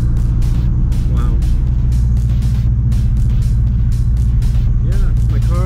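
A Chevy Cruze speeds past on the road, heard from inside a car as a loud, steady engine and tire rumble with a broad low roar, while people talk over it.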